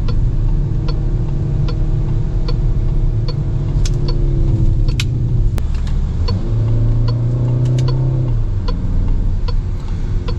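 Engine of a Peugeot 5008 crossover heard from inside the cabin as the automatic transmission downshifts, a steady low drone that shifts pitch smoothly midway through, with faint ticking clicks scattered over it.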